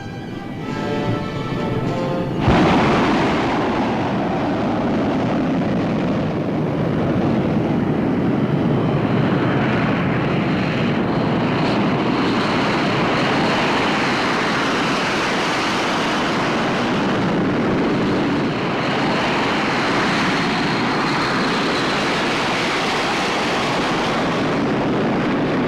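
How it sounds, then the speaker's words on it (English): A jet aircraft takes off at a 1950s airfield, a sudden loud onset swelling into a sustained broadband roar that holds steady for over twenty seconds, with no speech. "Jets make some noise."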